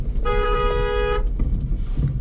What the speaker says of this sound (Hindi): एक लॉन्ग हॉर्न प्रेस करो।